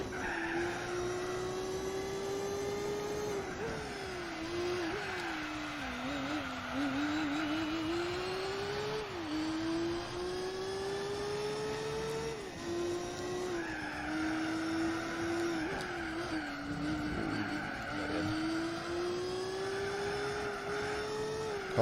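A race car in Gran Turismo 4 drones steadily through an endurance race at Grand Valley, its engine pitch rising and falling with each gear and corner, with tire squeal mixed in, continuous and alone without talk.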